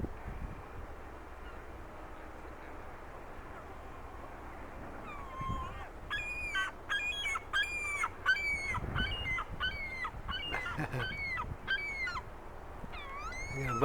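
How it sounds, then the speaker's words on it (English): A flock of seagulls flies overhead, calling repeatedly in a rapid series of sharp, yelping cries. The calls rise over steady outdoor wind and rumble, fairly close, and there is no talking. "Got a bunch of seagulls flying overhead."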